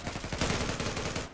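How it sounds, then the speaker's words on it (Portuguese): Loud, close gunfire from the online shooter game Zula, rapid automatic bursts crackling continuously for the whole moment, with no talking over it. "tô tomando muito tiro"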